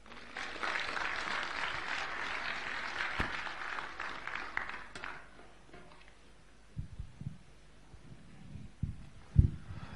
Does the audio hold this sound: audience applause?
yes